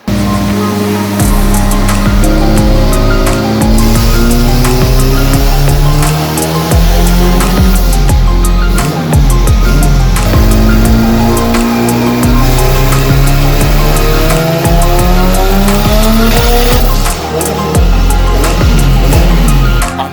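A modified Honda car engine roars at full throttle on a dynamometer pull, its pitch climbing steadily through the gears, loud and sustained, then briefly dipping before rising again.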